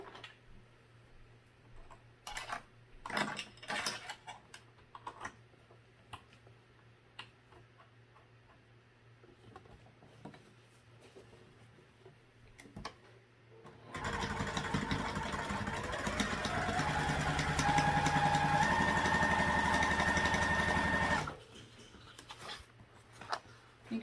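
A sewing machine runs steadily for about seven seconds, stitching a quarter-inch seam along a fabric panel, a fairly loud continuous mechanical whir. Quieter clicks and handling noises come before and after.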